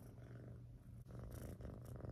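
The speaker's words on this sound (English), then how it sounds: "I'm petting my cat, sorry." A domestic cat purrs steadily while being petted, a soft, continuous low rumble that stays close and quiet with no voices.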